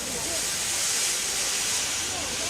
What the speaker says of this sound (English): He blew his whistle and wheezed lots of steam.